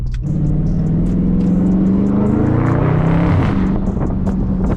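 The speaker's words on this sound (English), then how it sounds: "You can kind of hear it when you want to shift, when you're gonna get that nice little pop." A stock Dodge Charger Scat Pack 392 with a mid-muffler delete revs loudly and steadily up close, its exhaust note rising and falling with a brief crackle as the throttle lets off.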